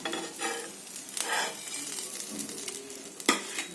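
Paneer sandwich toasting in butter on a hot pan, a soft steady sizzle with a few scrapes and clinks of a spatula against the metal, one sharper knock near the end.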